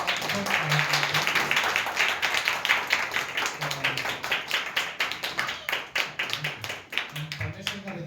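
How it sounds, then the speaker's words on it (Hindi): A church congregation claps for the worship team during an evening service, with steady rhythmic clapping that fills the room and people talking over it throughout. "फिर हम लोग वर्शिप टीम के लिए तालियां बजाएंगे"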